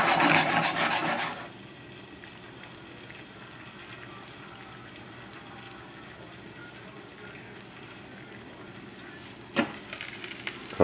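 Chicken stock poured into a hot pan with vegetables, a loud burst of sizzling at first that quickly settles to a low simmer, then a short rustle and scraping near the end, no speech.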